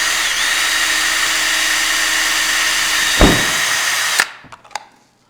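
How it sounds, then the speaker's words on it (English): A cordless drill whirs steadily and close while boring a hole through a plastic soda bottle, with a brief pitch dip near the end before stopping, followed by a few light plastic clicks and handling sounds. "Then I have my cordless drill."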